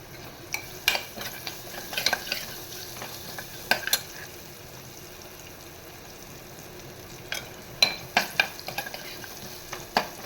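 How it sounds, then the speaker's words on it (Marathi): Okra is stir-fried in a sizzling tempering in a pan. A steady low sizzle runs throughout, with repeated sharp scrapes and clinks of a spatula against the metal in bursts near the start and end. "हे बघा, फोडणी मस्तपैकी अशी आपण खमंग छान परतवून घेतो आहे."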